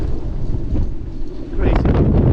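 Strong gale wind from the remnants of Hurricane Lee, blowing 40-plus knots over a sailboat at anchor, roars as steady broadband noise across the microphone and builds louder in the final second.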